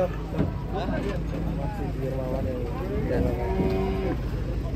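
Contest-class cattle low in long, wavering moos amid a busy outdoor cattle contest in Boyolali, with voices talking and the rumble of a Fuso truck underneath.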